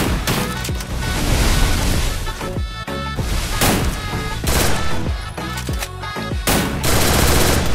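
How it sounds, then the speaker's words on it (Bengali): Loud, dense bursts of automatic gunfire from a Garena Free Fire battle royale match, with rapid volleys and brief pauses, heavy crashing impacts, and a continuous game soundscape throughout. "ও এখানে ফায়ার করলো, ওপাশের প্লেয়ারটা।"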